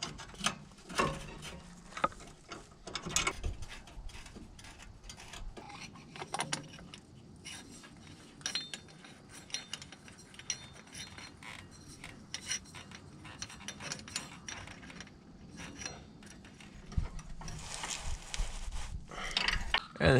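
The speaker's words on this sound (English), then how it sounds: "Now we've got to unscrew these pieces on the ends of the filter" Fuel filter end fittings are unscrewed on a 1999 Chevy C6500 with a 7.4L gas engine, giving a long stretch of faint metallic clicks, ratcheting and clinks of tools and parts, irregular and close, with no talking.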